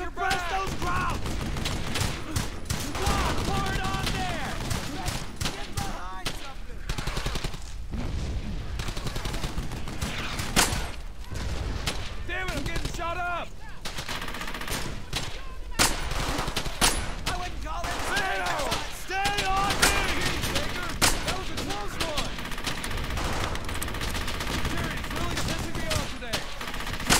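Heavy gunfire in the World War II shooter Brothers in Arms: Hell's Highway: dense rifle and machine-gun bursts crackle almost nonstop, with soldiers shouting over the barrage.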